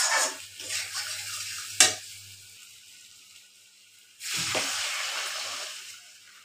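Water poured into a pan of frying potatoes and spices raises a bright burst of sizzle and hiss, followed by stirring clatter. A second loud sizzle flares near the end, close by with no talk.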